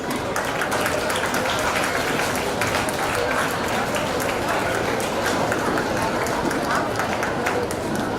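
School science expo audience giving a round of applause for the class prize winners. A dense, even clatter of many hands clapping fills the room steadily, with voices faintly mixed in.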